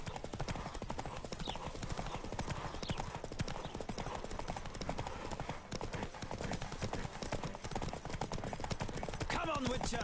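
Horse hooves gallop in a fast, steady clip-clop rhythm throughout a horse race in The Witcher 3 video game, loud and continuous, with character voices speaking over the hoofbeats.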